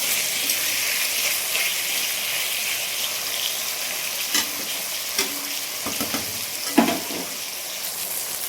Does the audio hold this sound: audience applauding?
no